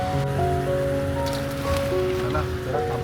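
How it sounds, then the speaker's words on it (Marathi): Steady rain falling during a car trip to a Konkan village, a continuous close patter under a droning tonal hum. "पाऊस बघ ना आता पडून गेलाय आणि आता परत जस्ट पडलाय."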